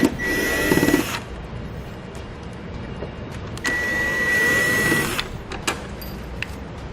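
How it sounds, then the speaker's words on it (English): A power screwdriver whirs in short bursts while backing out Phillips screws from a trailer wiring light housing, two distinct runs a few seconds apart, close and fairly quiet, with no talking. "we're going to remove the 2 Phillips screws located closest to the middle here"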